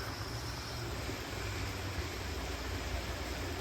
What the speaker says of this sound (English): because you can hear the waterfall in the background